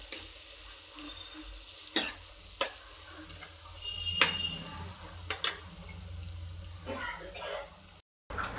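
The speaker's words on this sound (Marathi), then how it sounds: "तोही 2 ते 3 मिनिटं मंद आचेवर परतून घ्या" Masala for stuffed brinjal sautés on a low flame with a soft, continuous sizzle close by, broken by several sharp clicks and scrapes of a spatula against the pan.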